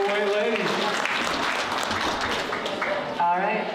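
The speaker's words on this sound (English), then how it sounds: "Let's give a round of applause." An awards ceremony audience applauds judges being introduced, a dense continuous patter of clapping heard together with voices talking over it.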